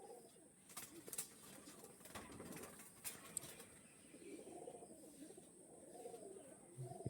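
Domestic pigeons cooing softly in a loft, repeated low throaty coos with faint chirps and light rustling, fairly quiet and close, no speech.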